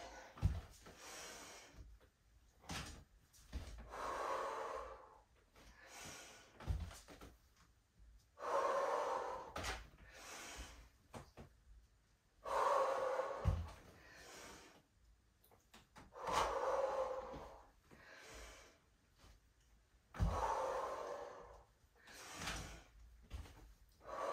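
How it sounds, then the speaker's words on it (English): Slow, deep breaths during a prenatal Pilates session, each long inhale and exhale audible and close, repeating at a steady, unhurried rhythm with quiet pauses between them. "So come do some deep breathing with me."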